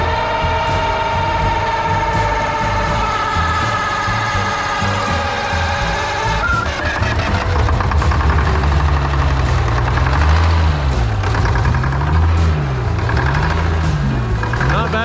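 A sawmill engine starts from cold after sitting a month, cranking then catching into a steady, loud, close running drone with a rough knocking beat and rising and falling pitch as it settles.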